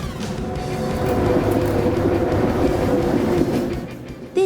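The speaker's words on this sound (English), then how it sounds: "This is a freight train in Germany." A freight train in Germany rolls past with a steady, loud rumble and a rushing roar of wagons, the noise swelling slightly through the middle and holding nearby throughout.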